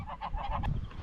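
Honking from a flock of geese or large waterfowl by an urban waterside in Arta, Greece: a rapid run of repeated nasal calls, fairly close and loud, over a steady outdoor background with no talking.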